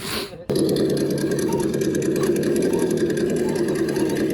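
A Traxxas Villain RC boat motor, an old one brought back to life, starts abruptly and then runs with a steady, loud, high-pitched whine.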